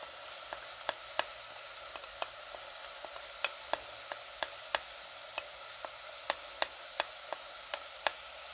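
Tomato paste and spices fry quietly in a pot for chicken biryani, a soft low hiss broken by sharp little spitting pops at an irregular pace, with no talk.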